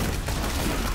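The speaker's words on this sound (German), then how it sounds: "auch die Türme da hinten in der Nebenkammer schießen munter fröhlich" Sentry turrets of a Demon Hunter firing in a Diablo game, heard as a dense, continuous wash of rapid gunfire-like crackle and booms that stays steady and loud throughout, with no talk.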